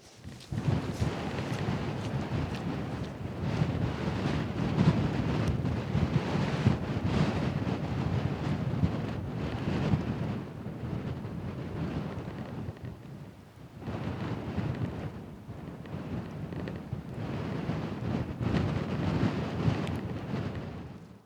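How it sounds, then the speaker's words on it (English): Cold, biting wind buffets the microphone on Dartmoor moorland in poor weather, a loud continuous roar with gusty surges that briefly ease around the middle before building again; no talk is heard. "There's a biting wind making my face numb and making it difficult to talk."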